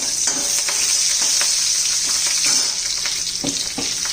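Green chillies dropped into a masala frying in a pan give a steady, loud sizzle with faint stirring scrapes, heard alone without talk.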